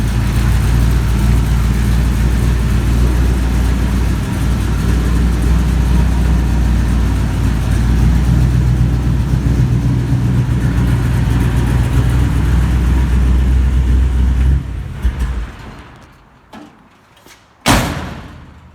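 A junkyard AMC Javelin engine with a new exhaust runs steadily and loud at close range, a continuous low rumble that cuts off near the end, followed by a single sharp door slam.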